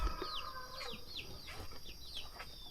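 Chickens cluck and call repeatedly in a rural Thai village where chickens, cattle and buffalo are raised, short rising cries recurring every half second or so at moderate distance over steady outdoor background.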